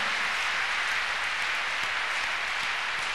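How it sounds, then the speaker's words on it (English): A church congregation claps steadily throughout, a dense, continuous wash of hand claps filling the room with no pauses. "Shall we clap our hands unto God"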